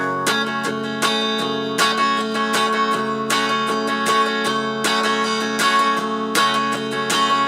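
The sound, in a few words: strummed guitar chords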